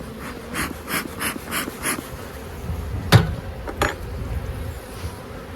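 Honeybees buzz around an opened hive in a series of rhythmic swells of close droning, followed by two sharp knocks of hive gear, and no voices.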